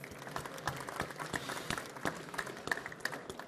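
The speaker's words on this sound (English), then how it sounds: "A round of applause for her, please" Audience at a London tech show panel clapping for a guest co-founder, a soft, steady patter of hands at moderate distance with sharper individual claps scattered through it.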